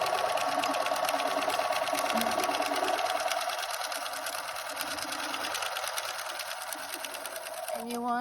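A sewing machine stitches a seam in a beginner sewing lesson, giving a close, continuous rapid whirr of needle strokes. The pace eases slightly partway through, then a brief change in pitch comes near the end.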